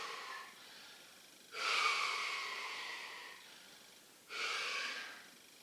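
Slow, heavy breaths through the mouth after exercise: two loud breathy exhalations with a quieter airy stretch between them, close and alone.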